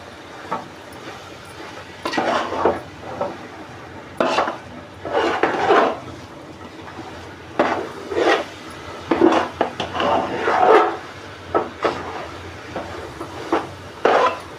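Dry fruits being mixed into modak filling in a pan, a spoon or spatula scraping and clinking against the metal in irregular bursts, fairly close, with no talk.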